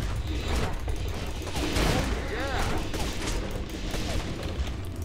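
Distant pistol fire in the ArcheBlade video game, repeated shots amid game effects, with someone talking over the action.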